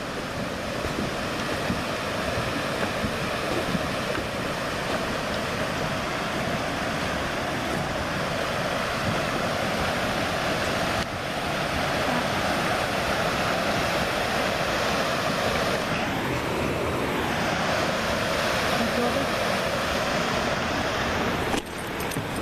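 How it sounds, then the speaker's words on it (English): Water rushes steadily over rocks like a small waterfall outdoors, a continuous broadband roar with a faint wind rumble, constant loudness throughout and no talking. "there's like water rushing. Almost like a little mini waterfall."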